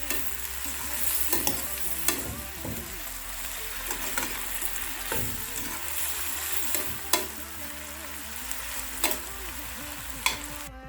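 Sausage sizzles and fries in a pan alongside seasoned eggs, a steady loud crackle with scattered stirring clicks and utensil taps throughout, fairly close.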